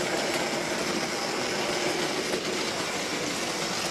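An OO gauge Hornby Dublo three-rail model locomotive pulling a small freight train, making a steady close rumbling whir with rapid clicking rail noise, continuous and fairly loud.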